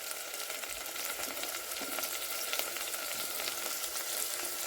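Spices, chutney, salt and turmeric frying for biryani rice over a rustic earthen stove make a constant, even sizzle. It stays moderately close without voices and has a few faint stirring touches.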